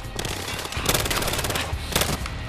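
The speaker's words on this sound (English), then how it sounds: "Where is he shooting from?" Automatic weapon fire in the cop-and-robber shooter game Battlefield Hardline: rapid rattling bursts, loud and close, with two dense volleys standing out over continuous gunfire.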